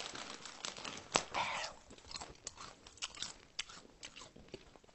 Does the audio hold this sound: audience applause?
no